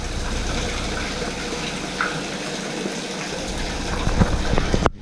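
A pump pulls freshwater back through a hose at an oilfield spud rig site in winter, giving a steady, loud rushing gush of flowing water throughout, with a few clanks near the end.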